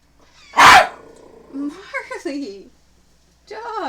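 A pet dog named Marley barks sharply at home, one loud burst followed by more yips and whines, with a voice sounding between them.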